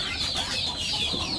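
Ducks and chickens cluck and squabble over food in a short, faint burst of overlapping calls.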